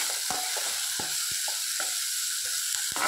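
Capsicum frying in a pan with onions and green chillies for masala pav, a steady close sizzle with intermittent scraping stirs cutting through it.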